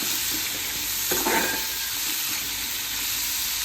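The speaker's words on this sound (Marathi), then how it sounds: "आता मी जे कांदा आणि टमाटो एकत्र मिक्स करून घेते एक हिरवी लाल मिरची पण घेतली हे सर्व मिक्स करून घेते" Onion, tomato and green and red chili stirred and frying in a pan, a steady close sizzle and hiss with a brief burst of scraping stir midway, no voices.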